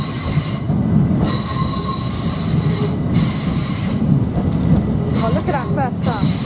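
Southeastern Class 375 electric train moving through London Charing Cross station: close, loud rumble of wheels on track with repeated high squeals from the wheels and brief clattering, a voice briefly audible in the background.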